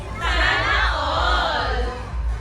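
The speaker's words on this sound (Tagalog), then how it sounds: "Kaya higbi at sigaw ng ilang di sinuwerte." Crowd of people at a Filipino raffle or lottery draw letting out loud shouts and cries, a dense swell of many voices rising together and holding steady for a couple of seconds.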